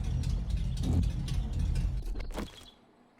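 Sports car engine with a faulty exhaust in the game 7 Days to Die, running close with a rough, rattling, uneven drone before it cuts off and falls quiet near the end.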